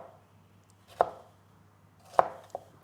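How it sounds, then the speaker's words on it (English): A knife slices washed habanero peppers on a cutting board: two crisp, well-spaced cuts and a lighter third tap, quiet and close with no talking. "We want to cut them into slices like this thickness here."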